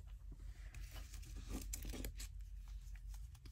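Paper corners are trimmed for a collage journal, with soft, brief snips and rustling crinkles of paper scraps in an irregular rhythm, fairly faint and close.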